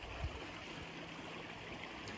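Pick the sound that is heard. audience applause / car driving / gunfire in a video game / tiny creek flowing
tiny creek flowing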